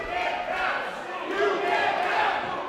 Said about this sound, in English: Brooklyn crowd getting on the referee.